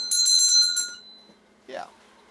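Bell on a 1959 Husqvarna Viking CI-21A sewing machine rings out in a rapid series of bright metallic strikes for about a second, then fades before a short burst of talk.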